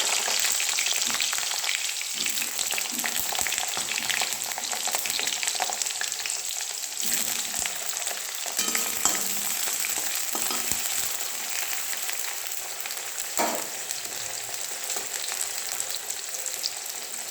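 Pieces of eggplant sizzling in a pan of oil, a continuous close-up frying hiss dotted with sharp spits and crackles, plus a few clinks and scrapes of a spatula stirring, no talking.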